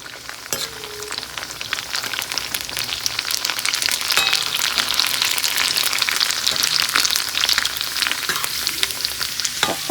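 Fuchka puffing in hot oil in a wok makes a dense, continuous crackling sizzle that grows louder partway through, with occasional stirring scrapes.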